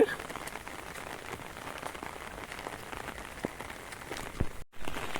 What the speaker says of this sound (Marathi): इकडं पाऊस पडता बारीक बारीक आहे